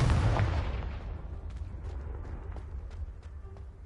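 A Confringo explosion spell in Hogwarts Legacy bursts with a loud deep boom at the start, then fades into a rumbling tail with a few faint crackles and clicks.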